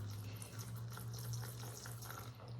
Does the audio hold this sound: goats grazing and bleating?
no